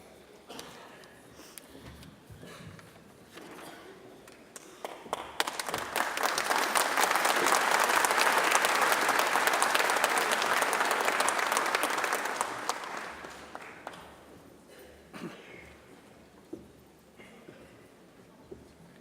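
Families and friends at a Unitec graduation ceremony burst into loud, sustained applause and cheering for graduands, a dense clapping roll that swells, holds for several seconds, then fades back to scattered claps and room murmur.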